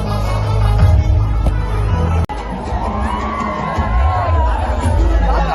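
A dense crowd at an agricultural exhibition in Sindhudurg, loud close hubbub of many voices with shouts and cheering that continues throughout.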